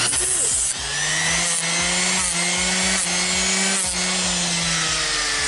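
A power sander grinds steadily against wood, a loud continuous buzzing with a rough, rasping texture and a brief dip near the start.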